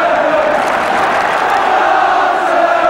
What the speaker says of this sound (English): Crowd getting behind Tottenham now